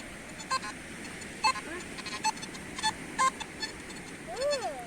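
Short electronic metal detector beeps sound at irregular intervals against outdoor beach background noise, ending in a warbling, wavering tone.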